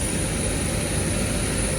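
Steady, loud roar of a SpiceJet airliner's jet engine with a high whine on top, heard near the plane while boarding in rain, continuous and unbroken throughout, with no talking.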